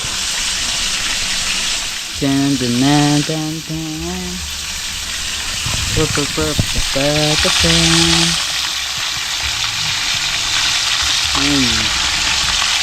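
Food frying in a pan for a group dinner, a steady broadband sizzle running throughout with occasional stirring, while people talk and call out over it in the foreground.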